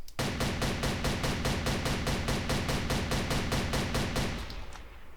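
Rapid automatic fire from an SPR rifle in the shooter game Darkest Days, a loud, steady stream of evenly spaced shots for about four seconds that then stops abruptly.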